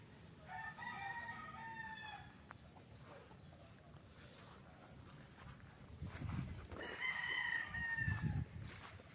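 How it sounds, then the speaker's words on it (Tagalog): Fighting cocks on a game farm in Pagsanjan, Laguna crow twice, a few seconds apart, at a moderate distance over a low rumbling background. "Mga manok panabong."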